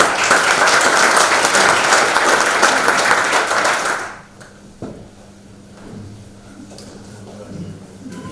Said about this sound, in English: like a warm round of applause for Raoul Saal.